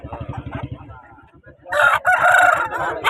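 Punganur fighting roosters crow loudly and repeatedly at a poultry market over a busy background of clucking and chatter, with one long crow dominating the second half.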